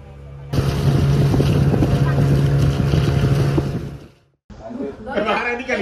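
A motorboat engine drones steadily at sunset in the Togean Islands, Central Sulawesi, with wind buffeting the microphone, then cuts briefly before rough engine and water noise resumes.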